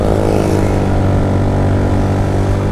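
A Rouser NS125 motorcycle engine pulls uphill in third gear, giving a loud, close, steady droning hum that holds throughout with no speech.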